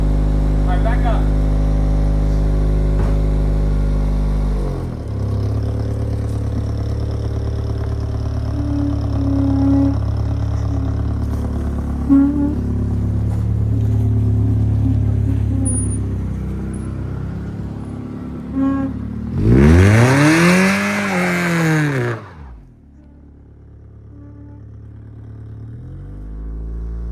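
A catless Acura Integra engine and exhaust run at a low idle rumble, then rise into a loud, raspy rev that swells and falls before settling back to a quieter idle, with people talking over it.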